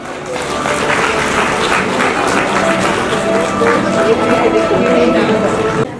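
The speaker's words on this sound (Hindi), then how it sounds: "तालियां होनी चाहिए" A crowd at a national excellence awards ceremony gives loud, sustained applause. The dense clapping holds steady throughout with some voices mixed in.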